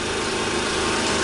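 Loud, close, steady engine drone of a 4kVA generator under load while a compressor runs, a constant buzzing roar with no pauses.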